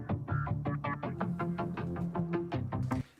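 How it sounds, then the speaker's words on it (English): Pulsing synth bass in a mixed electronic track, a steady rapid stream of repeated low notes throbbing evenly for about three seconds at moderate level, with no voices. "So we've got this pulsing bass"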